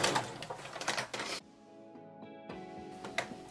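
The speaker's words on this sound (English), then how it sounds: "using a straight stitch on my sewing machine. And I'm going to come really close to that coil as I sew it on" Sewing machine running a straight stitch along the edge of a zipper coil on woven fabric, a steady mechanical whir in two bursts separated by a quieter pause with a faint tonal hum.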